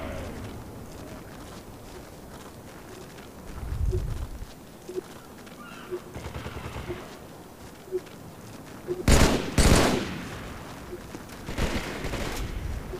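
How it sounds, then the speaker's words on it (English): Gunfire in a first-person shooter video game, scattered single shots and a loud cluster of blasts toward the end over a low background of game noise. "Puts down a couple shots, misses both"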